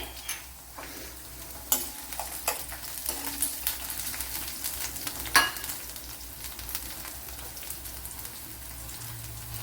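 Ginger and chopped green chilies frying in a pan for a Kerala-style dish, a soft, crackly sizzle with scattered sharp pops and faint stirring clatter.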